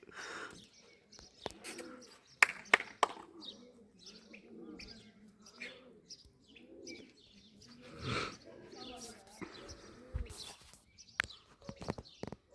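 Pigeons in a loft coo softly in repeated low phrases, mixed with scattered chirps, sharp knocks and clatters, and a few faint voices in the background.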